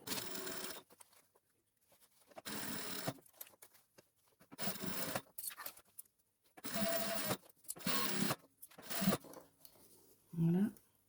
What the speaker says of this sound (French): Et donc maintenant, je vais coudre.